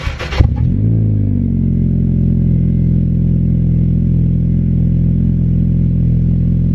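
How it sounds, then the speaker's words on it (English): A Honda fitted with a Skunk2 Mega Power exhaust barks once as it revs sharply, then settles into a loud, steady, deep idle rumble that holds unbroken. "this exhaust makes the sound that you want to hear when you're driving down the road"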